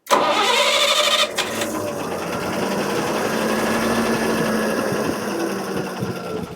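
A CNG-converted truck diesel engine starts with a rough burst, then settles into a steady, loud idle that rumbles and rattles without pause.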